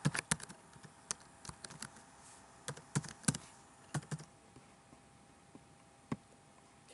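Keystrokes on a computer keyboard while editing a wiki page, irregular bursts of close clicks with pauses between, alone without talk.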